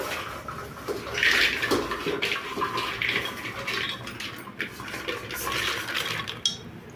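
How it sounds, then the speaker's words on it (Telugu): Sweet potatoes are washed by hand in water, with continuous sloshing, splashing and rubbing in a vessel close up, a few brief knocks against the container near the end. "ఇవి శుభ్రంగా బాగా కడుక్కోవాలండి"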